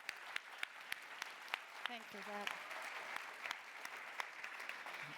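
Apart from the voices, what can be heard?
audience applause for panelists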